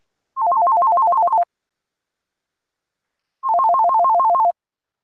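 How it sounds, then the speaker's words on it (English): A phone ringtone chirps in two separate bursts of rapid, alternating two-tone trills, each lasting about a second with silence between, clear and fairly close on an otherwise quiet live stream. "I think something ringing at the same time."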